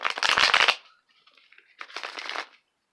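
Tarot cards being shuffled twice, a crisp riffling burst followed by a pause and a second, slightly softer shuffle, close up.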